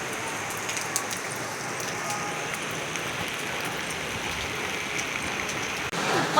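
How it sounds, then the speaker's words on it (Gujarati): Heavy rain pours down with a dense, steady hiss and patter of drops on surfaces nearby, unbroken until a brief dip near the end. "બધું જોરદાર વરસાદ, ઠંડી લાગે છે."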